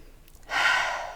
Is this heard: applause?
no